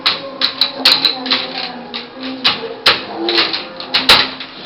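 A small child pressing and banging on computer keyboard keys, irregular clattering taps in quick clusters, close by, with some squeals and faint adult sounds in between.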